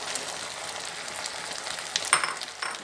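Paneer cubes frying in a pan for paneer chilli, a steady soft sizzle with a few brief sharper crackles and stirring sounds, close and fairly quiet, with no talk.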